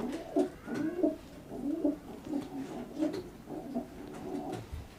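Pigeons coo repeatedly in a steady rhythmic series of soft, throaty calls, close by and clear, with no voices present.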